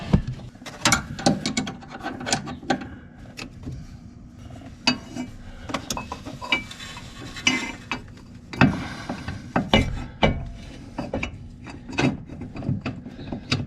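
A wrench working a tie rod nut on a Porsche 996, irregular ratcheting clicks and metallic scraping knocks in uneven bursts, close and fairly loud with no talking.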